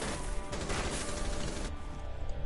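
Rapid gunfire from a hard-kicking gun in a ranked online shooter match, dense continuous bursts filling the whole stretch, loud and close.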